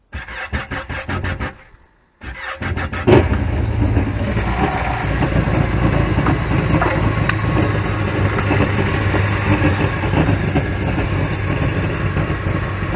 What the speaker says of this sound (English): So I'm going to crank the engine over once the engine started